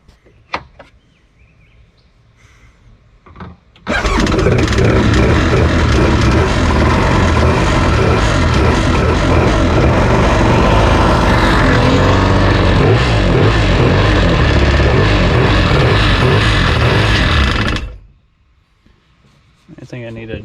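An old jet ski engine, long left sitting, catches after a short crank and runs loud and steady for about fourteen seconds before cutting off, with faint knocks and handling sounds before it starts.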